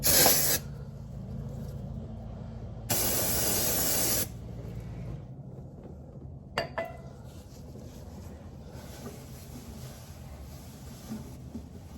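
Aerosol spray hissing over cleaned engine parts on a second-generation Cummins diesel, two sustained bursts of loud broadband hiss, the first brief and the second about a second long, followed by a few light clanks and faint garage ambience.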